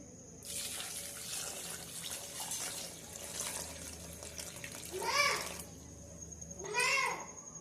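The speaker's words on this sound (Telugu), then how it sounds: "ఇప్పుడు తగినన్ని వాటర్ వేసుకుందాం." Water poured steadily into a tomato rasam mixture seasoned with turmeric and cumin, a continuous close splashing rush lasting several seconds, followed by two short louder bursts as a voice speaks briefly near the end.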